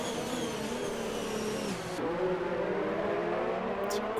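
Race cars braking in a Formula racing video game, a loud continuous engine whine that drops in pitch as the cars slow down, with a brief high chirp near the end.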